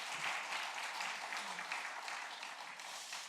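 Congregation applause during a Sunday morning church service, a steady wash of many hands clapping together at moderate volume, sustained evenly for a few seconds with no talk over it.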